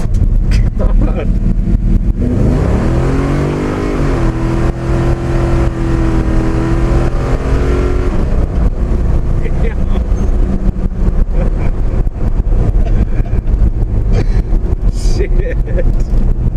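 A car running on nitrous accelerates hard. The loud engine tone climbs steeply in pitch, then holds at a high, roaring drone, close by.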